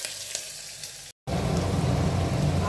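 Onion, asafoetida, curry leaves and chili sizzle steadily in hot oil for veg pulav, a soft hiss that bursts loud and dense after a brief gap, with no voices.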